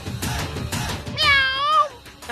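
A person imitates a cat, giving one drawn-out, wavering meow in a Tamil TV drama scene, heard clearly after softer background sounds.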